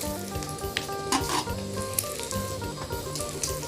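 Pork belly stir-fried in a hot pan with dried chillies and kaffir lime leaves, a continuous crackling sizzle broken by stirring and scraping sounds, close up with a low steady hum underneath and no speech.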